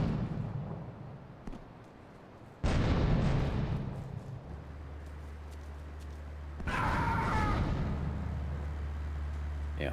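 A grenade blasts in Grand Theft Auto III with a loud boom, followed several seconds later by a second heavy explosion. Both are backed by low rumbling game ambience and faint voices.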